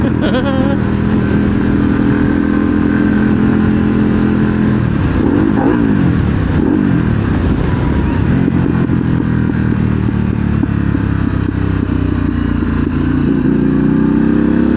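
A 2023 Harley-Davidson Pan America Special motorcycle rides along a North Georgia road, its engine droning loud and steady with a rise in revs partway through, plus wind rush and some clatter.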